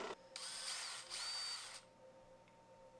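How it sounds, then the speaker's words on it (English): Small holes drilled by hand with a power drill for 440 bolts on a head-head 5-axis CNC machine build, a steady whining drill run with a short pause and restart, then quieter background hum. "now I'm just drilling them out by hand"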